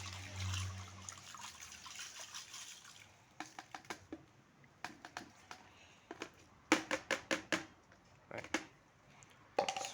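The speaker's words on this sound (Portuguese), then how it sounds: "depois eu vou adicionar a água quente" Hot water is poured into a bucket for making homemade soap with caustic soda, first as a steady splashing stream, then as a series of short sharp splashes and drips, close and fairly quiet.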